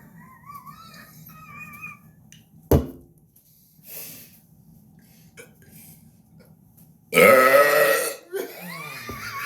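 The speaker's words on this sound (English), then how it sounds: "Burping." Several burps from one person: a short croak early on, a sharp abrupt belch near the middle, then a long, loud, rasping extreme burp late in the clip, with quiet room hum between them.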